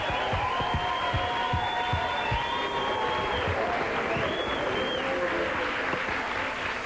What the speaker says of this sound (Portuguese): Eu quero um aplauso para Renato,